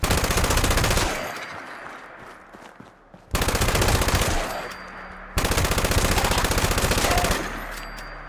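Automatic gunfire from a gun in the video game Fallout 76, three long sustained bursts of rapid loud shots separated by short pauses, with no talking.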